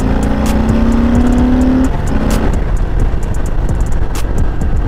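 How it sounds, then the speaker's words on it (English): A 2021 Harley-Davidson Heritage Classic cruiser with floorboards drops a gear or two on a ride, its engine note sliding in pitch and then settling into a loud, steady drone against rushing wind, with no talk. "Let's see if I can drop it down a gear or two."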